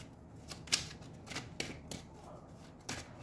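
Tarot cards are shuffled close up in a quiet room: several quick riffling bursts and soft slaps spaced unevenly across a few seconds, fairly faint, with no talking.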